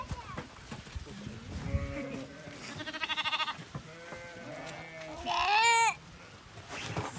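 Lambs bleat several times in a village setting, a few clear cries rising above scattered background voices and rustling, one loud close bleat near the end.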